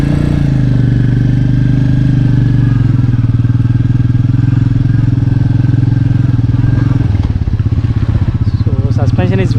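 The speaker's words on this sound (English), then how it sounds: "Very refined and smooth engine." Close and loud, a 2020 Royal Enfield Meteor 350 BS6 single-cylinder engine runs steadily with an even, rhythmic thump that shifts briefly near the end. Speech-like sounds can be made out over the engine.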